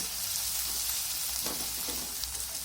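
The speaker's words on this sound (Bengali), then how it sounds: "এখন আমি ওই তেলের মধ্যে পেঁয়াজ ভেজে নেব।" Chopped onions fry in hot oil with a soft, continuous sizzle that stays even and fairly quiet throughout.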